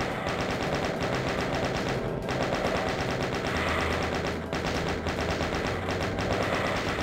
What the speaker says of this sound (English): Then we'll chain gun the rest of the last souls.